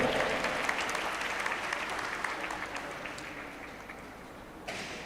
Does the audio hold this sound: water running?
no